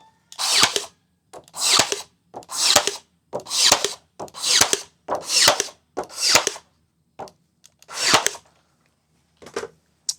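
A crown stapler with 3/4 inch staples fires into cedar planter boards, about nine sharp pneumatic bursts at a steady rhythm of roughly one per second, loud and close with no talk.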